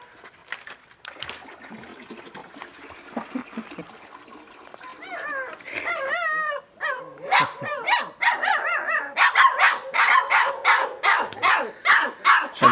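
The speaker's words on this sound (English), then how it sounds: "And these little puppies." Puppies at an animal shelter in Marrakech yapping and barking, sparse at first, then a dense run of high, close barks and yelps that grows louder toward the end.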